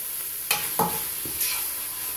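Ground meat for chili cooks over medium heat in a pan, with a steady sizzle and a few sharp spatula scrapes and knocks close by.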